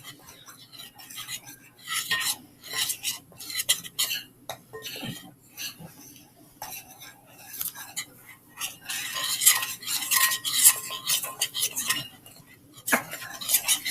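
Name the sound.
mixing homemade clay in a bowl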